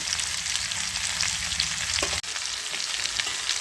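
Chicken liver sizzles loudly in a pan while chili powder, coriander powder and salt are stirred through, a dense steady hiss with a brief utensil knock near the middle.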